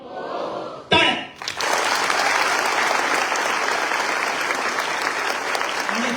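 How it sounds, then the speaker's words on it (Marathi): An audience at a talk bursts into applause after a short pause and keeps clapping loudly and steadily, a dense crowd of hands continuing to the end without letting up. "टाळ्या."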